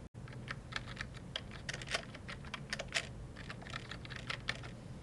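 Search words typed on a computer keyboard make a steady run of crisp, close key clicks at an even pace, with no one speaking.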